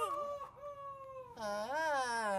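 A man mimics a rooster crowing with drawn-out, wavering vocal calls, faint and close, as part of a comedy sketch, with no other talk in between.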